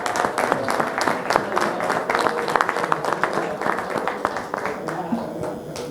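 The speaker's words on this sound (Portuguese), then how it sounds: "agora então uma salva de palmas para Terrão e Arnaldo Viana" Applause at an institutional meeting in honour of two birthday honorees: dense, steady clapping from a room of people, sustained throughout without a break.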